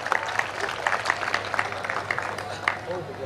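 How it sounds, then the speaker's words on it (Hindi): Scattered clapping from an audience at a comic poetry gathering in Hubli, Karnataka, light and uneven, with a voice speaking over it. "एक बार जोरदार तालियां बजाएं आप डॉक्टर भुवन मोहिनी के लिए"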